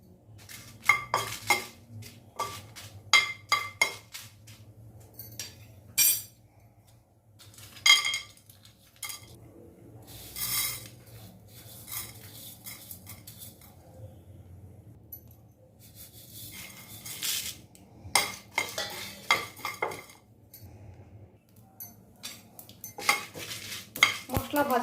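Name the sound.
dry-roasting coriander, cumin, dried chilli and garam masala in pan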